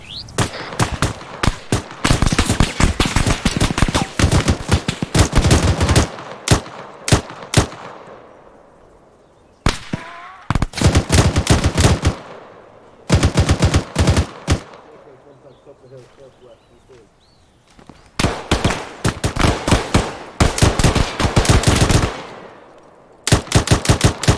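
Automatic rifle and machine-gun fire in the ArmA 3 military shooter, in long rapid bursts broken by short pauses, loud and close, with radio-style voices talking between volleys.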